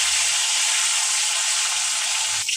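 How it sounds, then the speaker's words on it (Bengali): Mango pieces fry in hot oil seasoned with nigella seeds, reused from frying tilapia, giving a loud, continuous close sizzle that holds steady with a small disturbance near the end. "আমটা একটু ভেজে নেব।"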